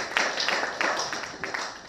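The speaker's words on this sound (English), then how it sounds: "I think these officers need to be commended for that with an applause" A small audience at a Seme customs command briefing claps. The crisp hand claps come close together, start sharply and fade gradually over two seconds, with no voices.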